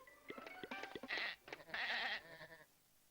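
Sheep bleat in a lively cartoon scene on a Wild West ranch, several wavering cries in quick succession, fairly close and clear, with no talking over them.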